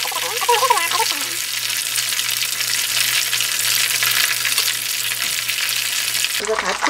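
Battered squid deep-fries in hot oil, a loud continuous crackling sizzle close by, with brief clatter at the start and end.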